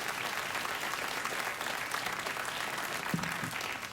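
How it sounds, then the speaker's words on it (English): A late-night talk show studio audience claps in a steady wash of applause that carries on evenly from start to finish, with no speech over it. "Did somebody just clap there just when I said spaghetti?"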